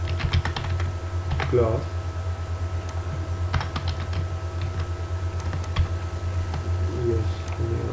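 A computer keyboard clatters in short irregular bursts of keystrokes while PHP code is typed, close and clear, with someone talking intermittently in between over a low steady hum.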